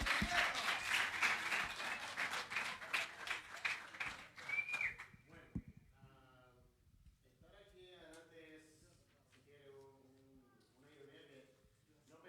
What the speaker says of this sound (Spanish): Reciban al amado de Florencia con un fuerte aplauso.